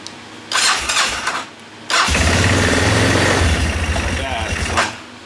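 A Baja 250 ATV engine cranks briefly, then catches and settles into a loud, steady, slightly uneven idle close by, running cold.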